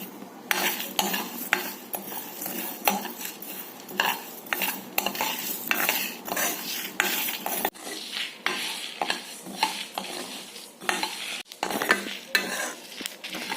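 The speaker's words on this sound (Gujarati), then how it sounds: "આપણા સૂકા મસાલા શેકાઈને તૈયાર છે, જેની ખુશ્બુ પણ સરસ આવી રહી છે" Whole cinnamon sticks, cloves and peppercorns dry roasting in a pan, stirred steadily with a utensil: continuous scraping and rattling of hard spices against the metal, close and fairly loud, with frequent sharp clinks and no talking.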